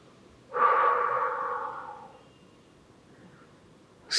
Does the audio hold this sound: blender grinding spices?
no